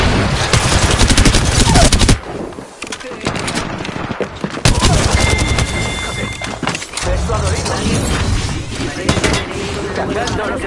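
Rapid gunfire in the online shooter Apex Legends rattles in dense bursts, loud and close, broken by short pauses, with other game effects mixed in.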